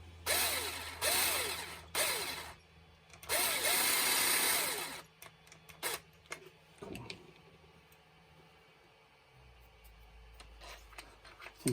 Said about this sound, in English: I think my my drill might be dying. This is a cheap one.